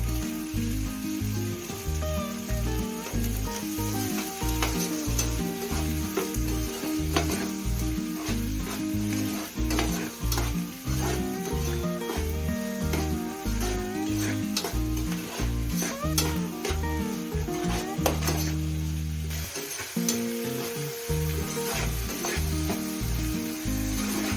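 Tomatoes sautéing with salt over high flame for paneer butter masala, a continuous close sizzle with steady stirring scrapes, over a low repetitive musical background throughout.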